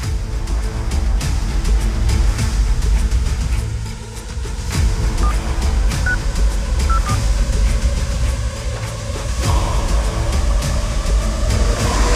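A telephone being dialed, with a few short, faint key tones in the middle of the stretch, heard over a loud, continuous rumbling background of vehicle or train noise.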